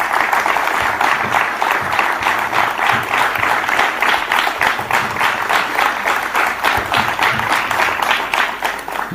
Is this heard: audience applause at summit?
yes